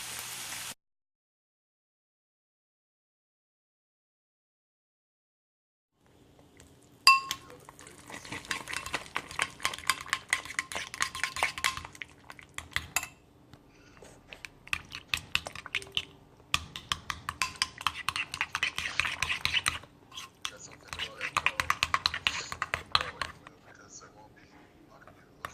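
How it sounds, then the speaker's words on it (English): Ground beef and onion with minced garlic browning in a pan, giving a steady crackling sizzle in long bursts broken by brief pauses, with a stirring utensil scraping now and then. "Browning the beef and onion and a tablespoon of garlic"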